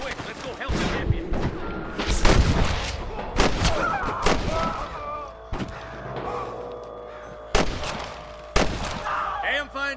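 Bursts of gunfire crack and boom in a Red Dead Redemption Western shootout, irregular shots spread over ten seconds with louder close reports among distant ones, mixed with shouting voices.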